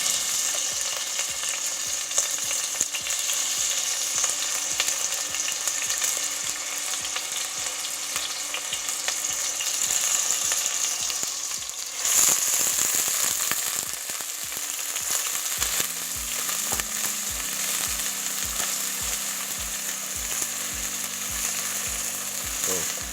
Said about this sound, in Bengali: পেঁয়াজটা একটু ভাজা ভাজা হয়ে আসতেছে।